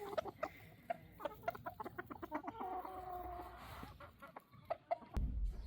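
Bantam chickens cluck and murmur close by in quick, irregular bursts, with a longer drawn-out call in the middle and a handling thump at the end.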